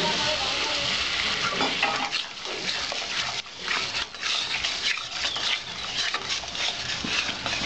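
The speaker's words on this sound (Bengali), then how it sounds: "জল দিয়ে আমি মশলাটা কষিয়ে নেব" Spice paste sautéing with a splash of water in a pan sends up a loud, continuous close hiss and bubbling sizzle, with faint scraping of a spoon, no voices.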